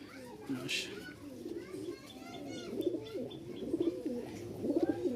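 Pigeons coo repeatedly, a hand-fancy male and a flying-fancy female, with soft low burbling calls coming in clusters close by, a brief higher chirp early on, and someone talking over them.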